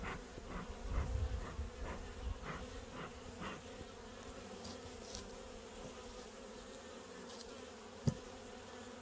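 Bees buzzing as a hive in a backyard apiary is opened for inspection, a soft, steady drone of many insects close by with a few faint knocks and one sharp tap near the end.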